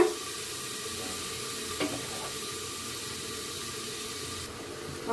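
Chopped onion frying in a pressure cooker for veg biryani: a steady, soft sizzle and hiss runs throughout, with one brief clink partway through and no talking.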